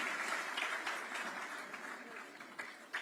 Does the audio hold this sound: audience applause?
yes